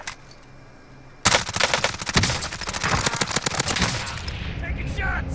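Rapid automatic rifle fire from a battle royale video game, including an M16, bursts in suddenly and continues in loud, dense volleys with scattered single shots, overlapping game noise.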